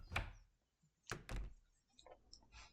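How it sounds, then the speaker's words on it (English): Several dull wooden thunks and knocks of a door being opened in a video game, one at the start and two close together a second later, followed by faint clicks and rustles in a quiet scene. "Ignoring the voice in my head, I decide to open the door."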